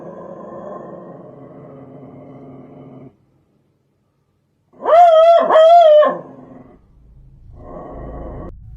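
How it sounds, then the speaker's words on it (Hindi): A dog barks and howls in a few loud drawn-out bursts, alone and close, between stretches of low indoor background and a brief silence. "मिसी कॉर्नर में ही थी और किसी तरफ देखते हुए भौंक रही थी और डर रही थी"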